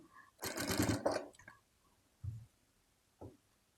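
A sewing machine runs a quick burst while stitching a cross piece onto a frock neckline, followed by two short soft thumps from handling the fabric, close and fairly quiet.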